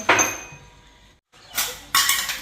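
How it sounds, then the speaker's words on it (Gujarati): Metal kitchen utensils are set down in a village home, several sharp clattering clanks, one near the start and two close together near the end, with a brief silence between. "વાસણ છે ને જેમ બને એમ ધીમેથી મૂકો"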